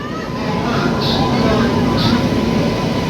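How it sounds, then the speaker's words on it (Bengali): A train pulling into a station makes a steady, heavy rumble with a faint metallic squeal, while a voice sounds over the noise. "ট্রেন ঢুকে পড়েছে স্টেশনে"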